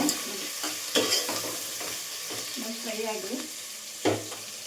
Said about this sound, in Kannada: ಎಲ್ಲ ಮೆಂತ್ಯ ಸೊಪ್ಪನ್ನ ಹಾಕಿ ಒಂದ್ಸರಿ ಬಾಡಿಸ್ಕೊಂಡ್ಬಿಡ್ತೀನಿ